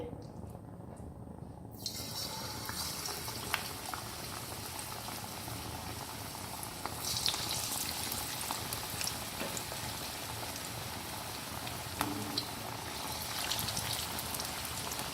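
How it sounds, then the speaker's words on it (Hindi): Besan-battered fish fries in hot oil over a medium flame, giving a dense, bubbling roar that starts quieter and swells after a couple of seconds, then holds loud and continuous at close range. "अब मैं फ़िश को ऑयल के अंदर डालूँगी और इसको फ्राई करूँगी मीडियम फ्लेम पे।"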